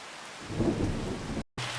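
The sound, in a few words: rain and thunder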